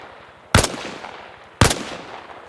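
Two sharp, loud rifle shots crack about a second apart at a shooting range in the video game Arma Reforger, each fading into a brief echo with no voices.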